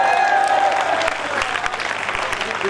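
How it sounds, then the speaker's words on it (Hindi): Loud applause from an audience at a Ganesh Chaturthi poetry gathering in Kishangarh Renwal, a dense steady clatter of many hands that holds for a few seconds before easing slightly. "ये वही लोग तालियां बजा रहे हैं"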